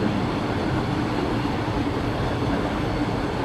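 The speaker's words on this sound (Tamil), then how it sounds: "கார்டனை சுற்றி போகும் இந்த ட்ரெயின் வந்து" A small park mini-train in Dresden's Großer Garten rumbles along steadily with a continuous low clatter and hum, moderately close and unchanging, no voices.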